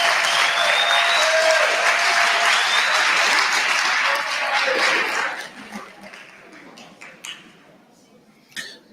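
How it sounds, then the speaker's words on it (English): Loud, dense applause from a student leadership induction audience for the NSFAS presenters, steady for about five seconds before thinning into scattered claps and fading, with faint voices. "let's give NSFAS a good round of applause"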